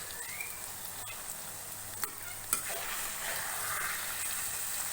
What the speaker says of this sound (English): Roast well in this oil for about 5 to 10 minutes. Let the prawns cook well.